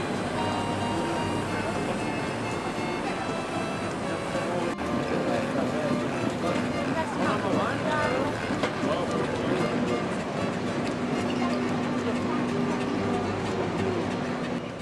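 Two heavy steam engines meeting on a rural road, giving a loud, continuous mechanical chugging and rumble with steady tonal hum, close by and constant throughout, with faint voices underneath.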